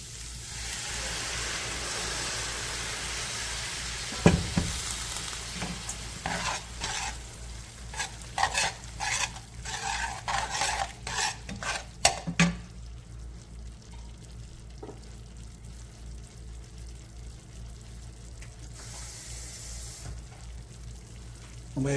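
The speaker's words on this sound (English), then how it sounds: "Now let deglaze the pan." A pan of sirloin beef tips and garlic sizzles steadily as it is deglazed, with scraping and stirring clatter throughout and a sharp hiss at one point, close and fairly loud.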